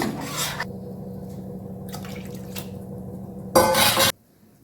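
Water pours steadily into a metal pot of tamarind-juice lentil rasam with a continuous rushing splash, ending in a brief louder burst of running water before stopping.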